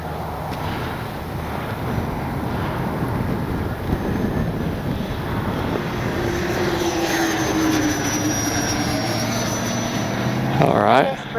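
XFLY F-35 70mm electric ducted fan RC jet on its maiden flight under cloudy skies, a continuous whooshing fan roar rising and falling as it passes, ending in a sharp close rise of pitch.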